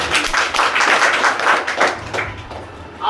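Audience clapping at an AWPL business plan seminar, a burst of applause from a crowd that swells for about two seconds and then fades, with no talking.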